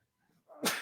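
A single sneeze, a faint indrawn breath followed by one abrupt, fairly close burst.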